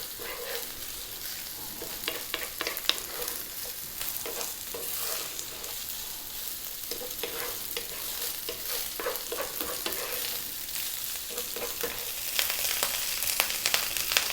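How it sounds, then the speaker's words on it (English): Cooked cold basmati rice fries and is stirred on high heat, a loud steady sizzle broken by repeated scraping strokes of the spoon across the pan, with no voices. "So very important that you actually fry the rice for a certain amount of time."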